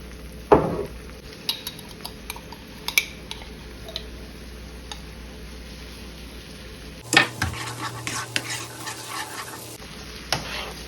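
A spoon or spatula stirs chili garlic pasta sauce with soy sauce in a pan. Sizzling runs under repeated scraping and clinking strokes against the metal, and louder stirring bursts come near the start and again later. No one speaks.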